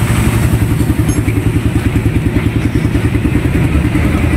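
A motorcycle exhaust backfires in a fast, steady rhythm of pops and chugs, loud and close, with no other sounds over it; the bike is faulty and lacks pulling power.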